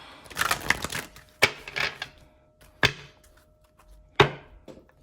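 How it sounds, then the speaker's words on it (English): Tarot cards being shuffled by hand, close and dry, in several separate riffling bursts broken by short pauses. "let's shuffle."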